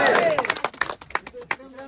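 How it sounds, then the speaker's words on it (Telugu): A crowd at a local development event claps briefly in scattered, uneven bursts, mixed with voices talking over the applause. "క్లాప్స్ కొట్టండి."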